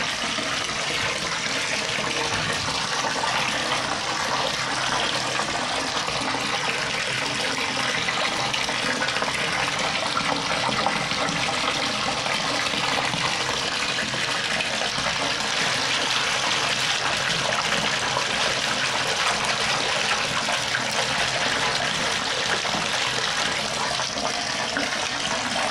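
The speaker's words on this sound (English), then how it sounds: "it definitely makes bubbles, which just intrigued me more so than I already am with this bath bomb" Bubbling and rushing water fills a bath continuously for nearly half a minute, a steady, dense fizz and gush with no pauses, close and fairly loud, from a bath bomb in bathwater.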